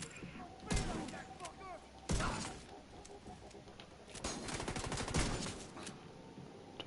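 Gunfire crackles in Tom Clancy's The Division 2, with sharp shots and short rattling bursts spread across the scene at moderate distance, some louder volleys standing out, with voices faintly mixed in.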